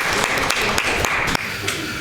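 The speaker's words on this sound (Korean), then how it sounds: "하나님 앞에 영광의 박수 올리겠습니다." A church congregation at a Sunday worship service applauds together, a thick continuous patter of many hands filling the room, with a faint voice underneath.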